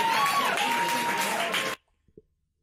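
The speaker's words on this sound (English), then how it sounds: "The room is applauding to the fact that nobody wants this conversation" Comedy club audience applauding loudly and steadily, a dense wash of clapping with some cheering for nearly two seconds, then cutting off abruptly to near silence with a couple of faint knocks.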